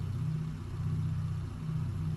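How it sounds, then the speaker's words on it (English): Steady droning rumble of a bomber's engines, only two still running, in the World War II video game Bomber Crew, a continuous low hum with no other sounds over it. "We've only got 2 engines running"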